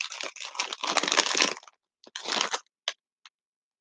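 Close, crisp crunching on thin-cut Greek potato chips with oregano seasoning, a dense burst of crackling bites followed by a few shorter chews and isolated crunches trailing off into silence.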